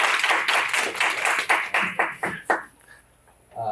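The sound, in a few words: audience clapping for presenters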